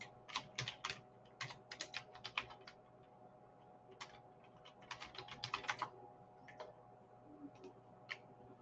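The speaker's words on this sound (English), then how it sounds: "I have to type in the right website first." Computer keyboard keys clatter in quick bursts of typing, close and fairly quiet, with brief pauses and a few isolated keystrokes toward the end.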